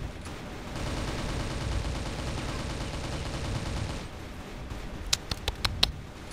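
Gunfire in the Crossfire video game: a long, steady burst of automatic fire that runs for several seconds, then stops, followed by a few sharp single shots spaced close together, all fairly faint.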